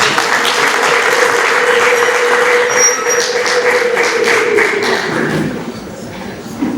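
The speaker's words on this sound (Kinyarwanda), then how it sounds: "mumbiza amashyi n'impundu dushimira Imana" A church crowd celebrating a priest's 25-year jubilee breaks into loud sustained applause with a long high ululating cry riding over the clapping, which thins slightly toward the end.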